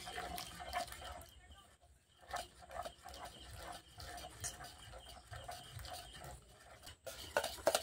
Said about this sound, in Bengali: দেখুন ভালো করে কিন্তু আমি বেসনটা ফেটিয়ে নিচ্ছি